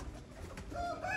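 Pigeons cooing softly in a pigeon setup, a brief low murmuring coo, faint and close with a little background noise.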